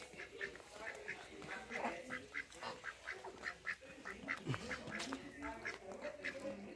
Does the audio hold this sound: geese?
yes